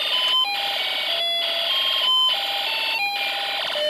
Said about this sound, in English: we can see the alarm IC and music IC being mixed in there